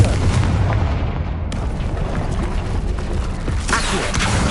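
Confringo fire spell blasts going off in Hogwarts Legacy on PS5, a loud continuous rumble of booming impacts with a sharp burst near the end, no talk.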